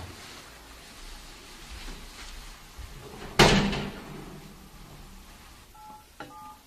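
A telephone being dialed, a loud slam or thud near the middle followed later by a short run of dial tones, with faint background noise and no speech.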